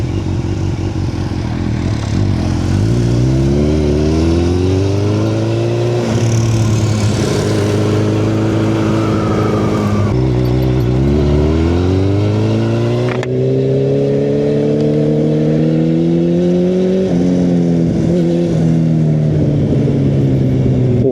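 A Yamaha FZ8 motorcycle accelerates hard, its engine note climbing through repeated rising sweeps as it shifts up through the gears, loud and continuous with steady wind rush throughout.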